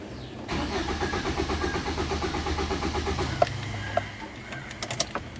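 A 2007 Suzuki Swift diesel cranks with a steady, rhythmic starter churn for about three seconds and then stops without catching, followed by a few sharp clicks.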